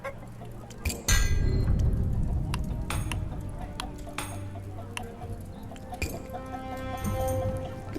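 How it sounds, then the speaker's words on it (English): Chickens cluck from a farm scene in the video game Bladesong, with short clucks and soft clinking game effects scattered over a steady low background, a louder burst of sound appearing just after the first second. "Look at my chickens"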